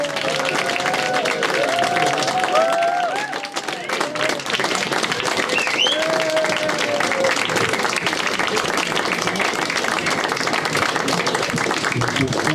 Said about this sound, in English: Please give it up for all the comics.